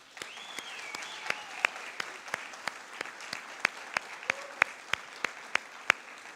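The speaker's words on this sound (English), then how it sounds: "Please join me in applauding the families, the friends, all of the peers who are here today" Scattered, evenly spaced claps ring out from an audience at a graduate spring commencement ceremony, honoring families and friends. The sharp, separate hits grow slightly louder over a faint background hum.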